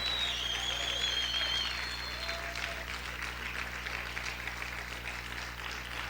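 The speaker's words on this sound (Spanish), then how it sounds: "Aplaude, sigue aplaudiendo fuerte al Señor." Church congregation applauding loudly during a Spanish-language sermon, a steady dense wash of clapping that continues throughout, with faint sung or whistled tones drifting over it early on.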